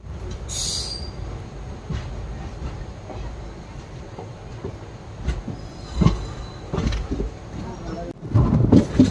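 A train pulling out of Nagercoil Junction on the Tirunelveli to Kanniyakumari line, with rumbling wheels, occasional squeals and rising clatter toward the end, under intermittent talk nearby.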